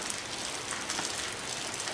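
Steady rain patters outdoors in a dense, even hiss with soft pattering drops throughout, quiet and continuous with no voices.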